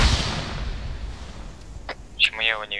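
Grenade explosions in the video game ARMA 3, a low rumbling blast decaying over a couple of seconds, followed by sharper brief bursts, with game voice chat overlapping near the end.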